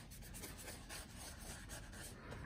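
A dry ink brush scrapes across paper in a quick run of close, rough scratchy strokes, faint and raspy with no voices.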